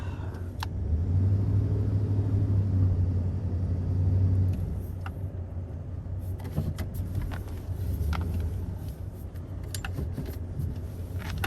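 A four-wheel-drive vehicle rolls through long grass, giving a steady low engine rumble close by, with occasional clunks and rattles from the cab partway through.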